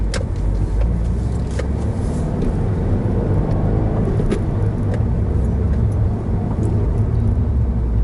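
Car engine running steadily while the car is reversing, a loud, constant low rumble heard from inside the car, with a few faint clicks and knocks over it.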